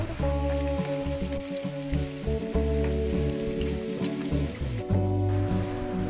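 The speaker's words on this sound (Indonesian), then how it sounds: "Kita masukkan kentangnya. Kita goreng sekitar 2-3 menit." Steady hissing sizzle of potatoes deep-frying in hot oil over medium heat, close and constant, beneath a sustained tonal background hum.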